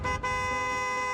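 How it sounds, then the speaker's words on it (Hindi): Car horn giving a sustained steady honk, loud and close, with a brief dip near the start before the tone holds on alone without voices. "ये आवाज मेरी गाड़ी के हॉर्न की है।"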